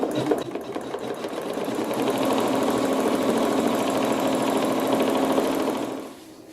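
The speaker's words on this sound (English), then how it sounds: "after I sew a couple stitches, I can stop and clip those threads and keep going" A sewing machine stitches a quilt block in a steady, fast, even mechanical whirr that runs close and loud for several seconds, then stops abruptly.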